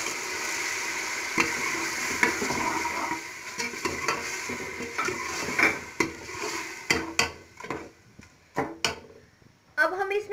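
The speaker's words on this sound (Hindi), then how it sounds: "अब हम इसमें दाल ऐड करते हैं।" White lobia lentils are tipped into sizzling masala in a pot, giving a soft frying hiss followed by a series of stirring scrapes and spoon knocks that grow more frequent toward the end.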